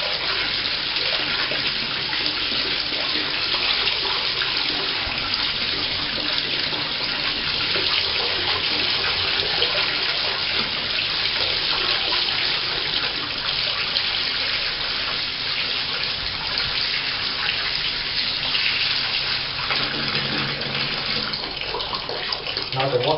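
Hot water runs steadily from a tap into a bathtub, a constant full-band gushing hiss lasting the whole stretch, close and loud, with no voices over it.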